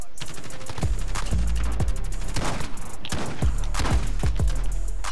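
Kilo 141 rifle gunfire in a video game, with loud bursts of rapid automatic shots repeating through the whole stretch, close and sustained, with brief gaps between volleys.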